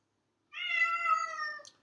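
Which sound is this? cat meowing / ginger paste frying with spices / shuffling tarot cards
cat meowing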